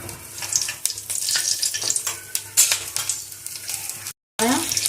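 Black pepper and green cardamom roasting in a pan for egg curry, a steady dry sizzle with frequent scraping stirs, near and loud, briefly cut off near the end.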